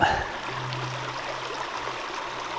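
River stream flowing outdoors, a steady rushing and trickling of water at moderate distance, continuous and even throughout with no voices.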